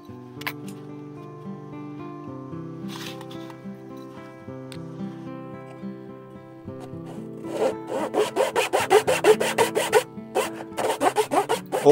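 A handsaw cuts into a pressed stack of bookbinding paper sections, giving a steady close rasping rhythm that quickens into rapid strokes near the end.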